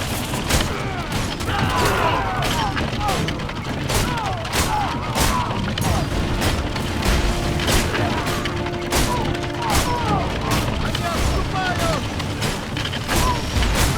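Archers loose repeated volleys in a Roman battle in the video game Ryse: Son of Rome, a dense, unbroken roar of clattering impacts, thuds and booms, with shouting voices mixed through the din.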